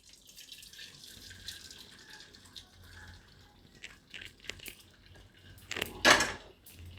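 Cold water pours from a tap over boiled noodles sitting in a strainer, with light clinks of metal and a short loud gush of running water near the end.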